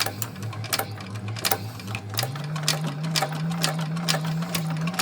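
Sewing machine stitching over a bag zipper on an EVA Shamballa bag, a fast rhythmic needle clatter with a motor whine that rises in pitch as it speeds up, close and alone.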